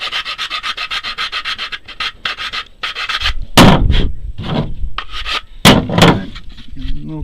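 Steady hand rasping strokes in a fast, even rhythm as an AK-47 magazine is deburred and filed, then louder scraping and bumping as the magazine is fitted and locked in, close and alone.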